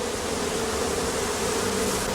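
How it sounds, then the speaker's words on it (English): Dense, steady buzzing of many bees around a skep hive at dusk, loud and close, continuous without pauses or voices. "As dusk approaches, the bees are introduced to the hive."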